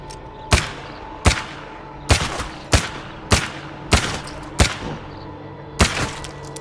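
Echo-S1 revolver fired in the video game State of Decay 2: eight loud, sharp gunshots at a steady, evenly spaced pace, each with a short ringing decay, and no talking.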